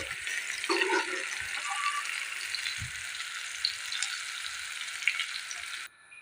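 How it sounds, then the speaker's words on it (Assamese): Jackfruit pieces fry in hot oil in a pan, giving a steady, dense sizzle that runs without a break before stopping abruptly at the end. "এইখিনি মোৰ এইদৰে ফ্ৰাই কৰা হৈ গ'ল।"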